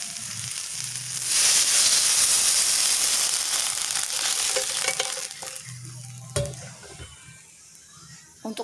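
Water poured into a hot pan of garang asem, setting off a loud, hissing sizzle that swells and then settles into softer bubbling, with a sharp clink of a utensil near the end.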